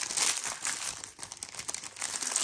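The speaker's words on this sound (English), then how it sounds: "Give me some crinkling for just a minute" Packaging of diamond painting canvases crinkled by hand close up, a continuous bright crackle of plastic in irregular bursts with no talk.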